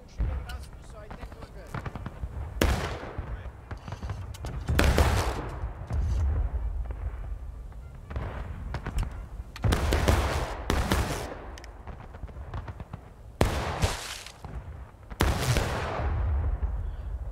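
Musket volleys crack out in a War of Rights battle. About six loud, broadband bursts land at irregular intervals, with a steady battlefield rumble and someone talking in between.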